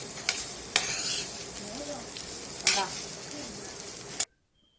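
Beetroot rice being stirred and mixed in a pan, a steady close scraping and frying sizzle with a few sharp spoon clacks against the metal, then abrupt silence at the end.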